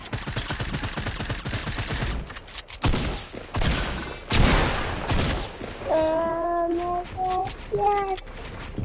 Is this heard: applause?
no